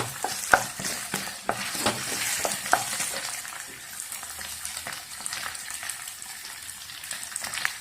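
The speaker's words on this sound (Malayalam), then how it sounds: "വെളിച്ചെണ്ണയിലൊന്ന് വഴറ്റുന്നത്." Okra sautéing in coconut oil in a pan, a steady sizzle broken by sharp scraping stirs of a spatula at irregular intervals, close and fairly loud.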